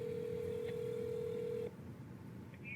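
A phone line gives a single steady dial tone for under two seconds, with a brief touch-tone beep just after. The whole exchange is fairly quiet and there is no speech.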